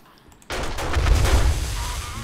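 A sudden loud blast in the video game 7 Days to Die after a quiet moment, followed by a sustained rumbling roar with crackling shots over about two seconds.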